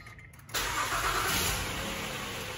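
A Honda Odyssey minivan engine with a newly replaced battery catches quickly after a brief crank and settles into a loud, steady idle close by.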